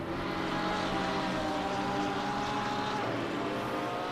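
A Lamborghini race car engine drones at Monza in a racing video game, a steady, sustained, fairly loud hum with a slight pitch shift near the end, unbroken and with no talk.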